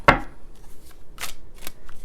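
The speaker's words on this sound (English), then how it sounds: "we are going to shuffle" Tarot cards shuffled up close: a sharp opening riffle followed by two quicker, softer bursts of card flutter, with quiet pauses between.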